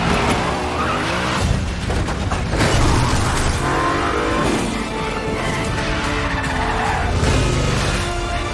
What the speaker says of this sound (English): Tom is driving and drifting one-handed through the streets of Rome.